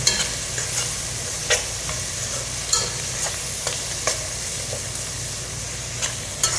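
Tomatoes fry in a pot for camel biryani, a steady broadband sizzle carrying sharp scraping taps of a spoon stirring at irregular intervals, fairly close and with no voices.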